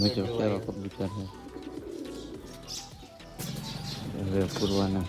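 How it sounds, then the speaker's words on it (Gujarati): Pet pigeons of a peacock-feather fancy breed coo in a loft holding chicks and eggs, low soft repeated calls close by, partly under someone talking. "કબૂતર કેવા કબૂતર છે."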